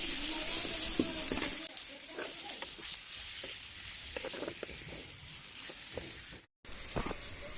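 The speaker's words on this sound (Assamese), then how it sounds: "মাংসটো দি অকণমান ভাজি" Meat fries in a pan with greens, a continuous hissing sizzle punctuated by irregular stirring scrapes, close and moderately loud, with a brief dropout near the end.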